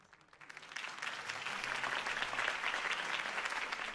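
Applause from a crowd in the video game Batman: The Telltale Series builds quickly from near silence into steady, dense clapping that carries on without voices.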